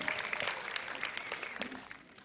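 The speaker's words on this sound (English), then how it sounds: "give me a little clap or something if you watched the opening ceremonies" Scattered audience clapping at a talk on the Olympics and gymnastics, fairly faint and uneven for a couple of seconds, rising in a few louder bursts before thinning out.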